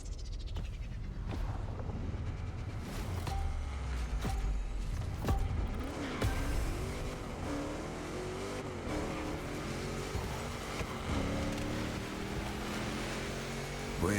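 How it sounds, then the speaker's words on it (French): A monster truck engine revs and races in the video game The Crew, a continuous loud rising and falling engine drone with gear changes, no talk. "Bah je joue avec un Monster Truck"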